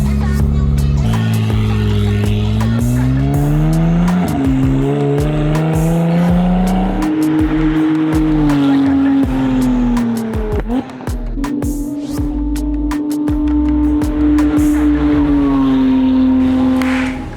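A test race car circles an oval at steady speed, its engine drone holding a sustained, slowly shifting pitch, loud and close, with brief gear or throttle changes and a faint dip near the middle.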